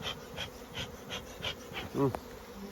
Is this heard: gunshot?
no